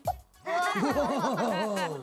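A voice imitates a champagne bottle opening: one short pop, then a longer sung, wobbling fizzing sound that trails off.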